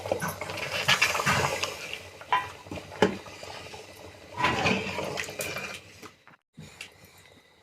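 Water poured into a pan of fish curry cooking in a home kitchen, bursts of splashing and sizzling with stirring and clattering of the pot, fairly close.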